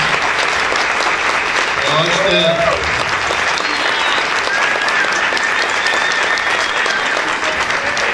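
Seminar audience giving a sustained, loud round of applause, dense clapping throughout with a few voices and short cheers mixed in and someone speaking briefly near the start.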